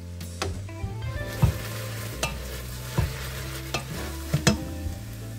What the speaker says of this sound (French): ce qu'on va chercher à faire maintenant, c'est à dorer les oignons, les caraméliser.